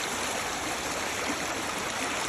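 Rainwater pours steadily out of an irrigation outlet in a village field after heavy rain, a continuous loud rushing stream that fills the whole moment with no voices.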